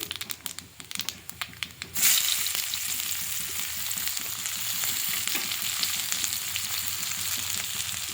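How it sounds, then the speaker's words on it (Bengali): Chopped onion hitting hot oil with bay leaves and Bengali five-spice, a few crackles and then a loud sudden sizzle that settles into continuous, even frying up close with no voices. "পেঁয়াজটা ভাজা ভাজা করে নেব"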